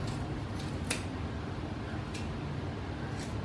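Scissors snipping through ribbon while shaping handmade poinsettia bows, a few brief crisp cuts over a steady low background hum, fairly close and quiet.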